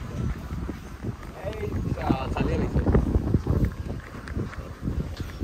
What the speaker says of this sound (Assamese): বৰষুণ ইমান নাই পুৰা বতাহ